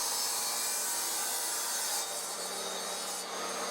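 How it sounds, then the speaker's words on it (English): Table saw ripping a length of wood to width for a vinyl display unit, a continuous close grinding, rasping cut that shifts tone partway through, with no talking. "So I ripped a piece to that width on the table saw"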